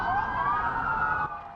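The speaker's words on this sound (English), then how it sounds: "Sirens blared through the streets of Las Vegas" Emergency vehicle siren wailing through Las Vegas city streets, a single rising and falling tone heard at moderate distance over low traffic rumble.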